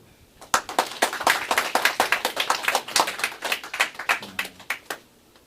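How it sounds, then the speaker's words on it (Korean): A small audience at a 2.8 Independence Declaration anniversary ceremony claps for several seconds, sharp individual hand claps in a loose, uneven rhythm, close and distinct, fading out toward the end. "이런 박수로"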